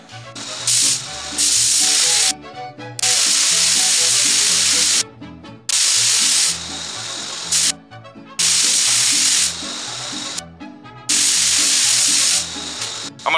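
A spray gun lays candy apple tri-stage paint onto a 1941 Willys pro street coupe, a loud steady hiss in several long passes broken by short pauses.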